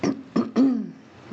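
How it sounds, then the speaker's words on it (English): A person coughs or clears their throat three times in quick succession, close and loud, with the last one drawn out and trailing off. "I might have to stop the video again so I can cough again"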